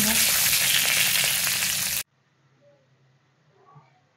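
Chopped garlic dropped into hot oil with tempering spices, sizzling loudly and steadily for about two seconds before cutting off abruptly to near silence with a few faint clicks.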